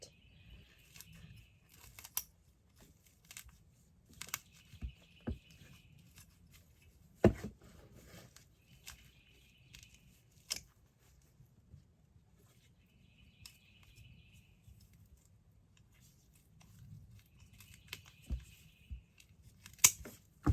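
Scissors or shears snip through a clearance dianthus clump to divide it, giving sharp, scattered cutting clicks with quiet gaps between them over soft background rustle, and birds chirp faintly in the garden.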